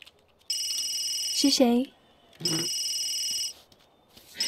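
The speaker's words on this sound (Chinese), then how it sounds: "哦、我们手机响了，谁打来的？" A mobile phone rings in The Sims 3 video game in two clear, steady electronic ringtone bursts. A brief spoken voice comes between them.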